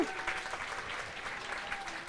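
Audience applause at a hackathon closing ceremony, a steady mid-sized crowd clapping continuously at moderate distance with some faint voices mixed in.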